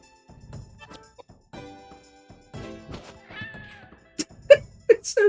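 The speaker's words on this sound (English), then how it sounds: "Cat, whatever the fuck it is." A cat in the horror game Koudelka lets out several short, loud meows near the end, after quieter game sounds and a low voice earlier.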